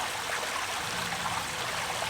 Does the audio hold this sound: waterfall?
yes